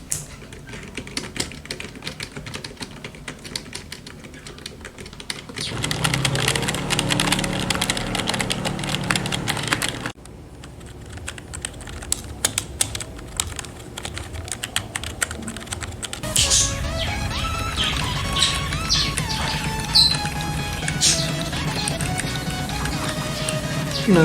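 Typing on an Alcatroz Jellybean U2000 keyboard, then on a second keyboard for comparison: rapid, close clicking keystrokes in several separate bursts of differing tone and loudness, with no talking.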